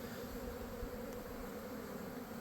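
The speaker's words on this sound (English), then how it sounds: "There's definitely bees in these boxes at least." Honey bees buzz around hive boxes in an almond orchard, a steady, faint, continuous drone with no pauses and no voices.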